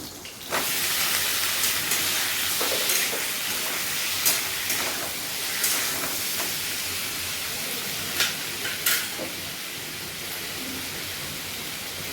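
Potato goes into a hot pan with mushroom and bursts into a loud, steady hissing sizzle that starts abruptly and continues throughout, broken by occasional clatters of stirring.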